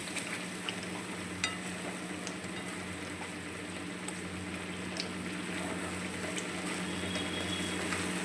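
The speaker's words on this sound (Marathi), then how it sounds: "एकदा चांगलं मिक्स करूया." Matar paneer curry with peas simmering and sizzling in a pan while being stirred, a steady bubbling hiss with occasional scrape clicks throughout.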